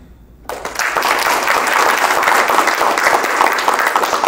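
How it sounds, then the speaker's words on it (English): Audience applause for local Minnesota House 21B election candidates at a political event, a dense steady clapping that starts abruptly after a half-second of quiet and holds loud and even to the end. "Let's give a round of applause for our Minnesota House 21B candidates, John"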